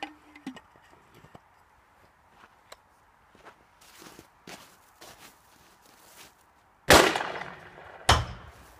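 An Xproducts Can Cannon on a fixed stock fires an 8 oz 7-Up can at a shed corner outdoors: one sharp, loud blast near the end, then a second burst moments later, after quiet shuffling and faint handling noises.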